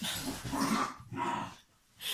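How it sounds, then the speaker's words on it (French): Dogs playing nearby, with breathy snorts, pants and scuffling in two bursts separated by a brief lull; no voices. "Désolé les chiens qui jouent"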